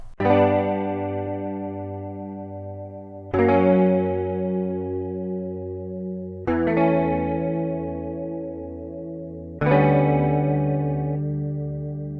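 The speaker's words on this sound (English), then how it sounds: "As you can hear, the guitar has some chorus on it" Four slow strummed electric guitar chords, each ringing out with a shimmering, wavering chorus effect that decays before the next strum.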